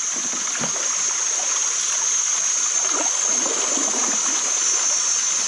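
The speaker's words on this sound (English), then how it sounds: "Now a little waterfall." A small waterfall pours steadily, a constant close rush of splashing water with no pauses.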